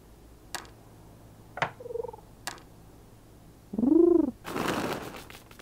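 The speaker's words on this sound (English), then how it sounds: "They're an actual bunch of pigeons." Pigeons cooing in the Tic-Tac-Crow iOS video game: a few sharp clicks and short calls, then a clear rising-and-falling coo followed by a burst of fluttering, played alone without talk.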